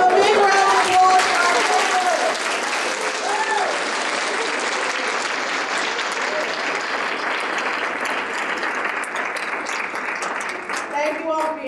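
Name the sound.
audience applause at a writers panel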